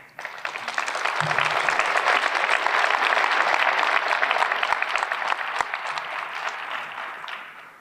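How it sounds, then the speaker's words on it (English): Sustained applause from a ceremony audience honoring graduating EMS medics, a dense wash of many hands clapping that swells and then tapers off near the end. "So you should be proud of them and give them a round of applause."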